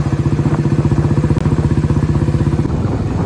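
A motorcycle engine runs steadily and close in monsoon rain near Saputara, with a rapid rhythmic chugging pulse, briefly changing pitch near the end.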